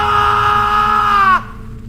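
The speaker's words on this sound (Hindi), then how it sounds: "की चीख गूंजी और फिर अचानक बंद हो गई" A scream sound effect in a horror story: a loud, sustained shrill cry that holds steady, then bends downward and cuts off abruptly, leaving quiet behind.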